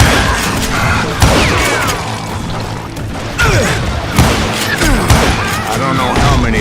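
Rapid gunfire rips through a Call of Juarez game battle: dense, loud volleys and sharp shots with booming impacts keep up throughout, while faint speech may sit underneath.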